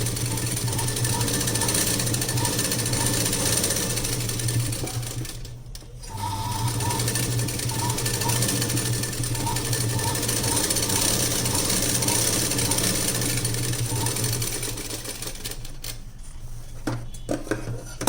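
A sewing machine runs steadily while stitching palazzo pants, a close, continuous mechanical whir with rhythmic ticking, pausing briefly and then starting again, with no one talking.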